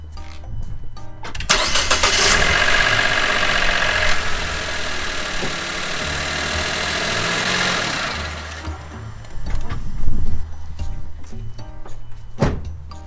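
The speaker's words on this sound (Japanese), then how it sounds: "一回エンジンかけます。" A car engine, just after an oil filter change, cranks and catches with a loud roar, then settles into a steady idle, with a couple of dull thunks near the end.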